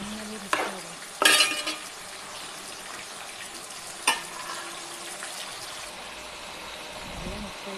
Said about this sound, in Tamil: சேர்த்து நல்லா வதக்கணும்.